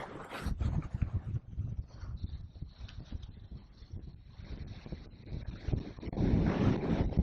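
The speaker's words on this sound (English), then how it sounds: "It's super windy today." Strong gusting wind of 15 to 20 knots buffets the microphone aboard a trawler at sea off the Florida Keys, a loud rough roar rising and falling in uneven bursts without talk.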